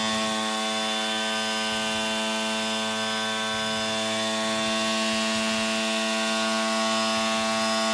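A Ridgid cordless sheet sander running on high gives off a steady, loud, buzzing whine with a vibrating rattle underneath, unbroken for the whole stretch with no talking.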